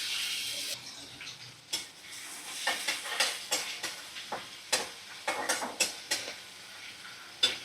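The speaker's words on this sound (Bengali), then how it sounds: "তো তেলটা গরম হয়ে গেছে, আমি একটু সাদা তেল দিয়েছিলাম, একটু বেশি করে একটু সাদা তেল দিলাম। তো একটু আমি পেঁয়াজ ভেজে নেব।" Onions frying in hot white oil in a kadai for egg biryani, a soft sizzle under a series of sharp spatula scrapes and taps repeating irregularly, close by and alone without talk.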